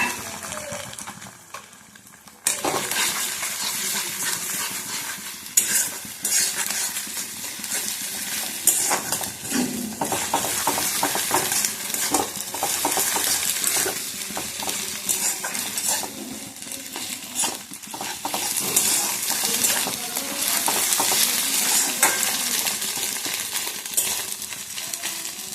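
Beaten egg sizzles in a wok with onion and chilli powder while a utensil scrapes and stirs, a steady, close frying hiss with frequent clinks and scrapes of metal.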